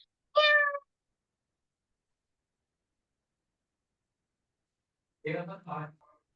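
A cat gives one short, clear meow near the start, followed by a long silence and then a brief burst of speech near the end.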